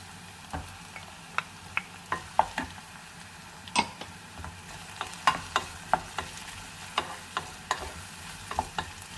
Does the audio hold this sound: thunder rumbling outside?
no